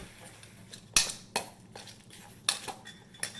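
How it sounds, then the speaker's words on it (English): A spoon stirs milk into crepe batter in a bowl, making a few sharp, scattered clinks and scrapes against the dish, close and fairly quiet, with no talking. "So a little bit of milk, stir that in."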